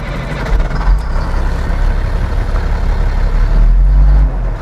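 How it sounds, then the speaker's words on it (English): Class A line truck's diesel engine starting up, a loud, steady low rumble that settles into idle and swells again near the end, with no talking over it. "And then we're going to start the vehicle."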